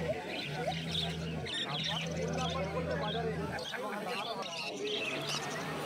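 Many small birds, including budgerigars, chirp and tweet busily at a crowded, noisy pet bird market, with a low hum and people talking nearby.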